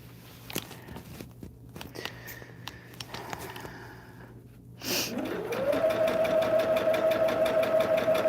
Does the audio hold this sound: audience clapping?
no